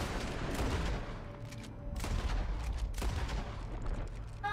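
Rapid exchange of gunfire in the Western shooter Red Dead Online, with dense overlapping shots and sharp cracks under a steady low rumble, loud and close throughout, with no talking.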